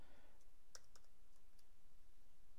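Keystrokes on a computer keyboard at a command line come as a few faint, scattered clicks against a quiet background hiss.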